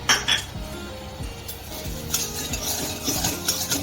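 A spoon scrapes and clinks against a pan as rice is stirred and roasted, with a steady run of metallic scraping strokes and a faint sizzle underneath, close up.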